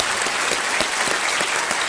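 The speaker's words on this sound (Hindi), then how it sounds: "एक बार जोरदार तालियां हो जाए अभिजीत जी के लिए" Loud, sustained studio-audience applause for the guest Abhijeet on a KBC game show, a thick, even roar of many hands clapping at once with no talk over it.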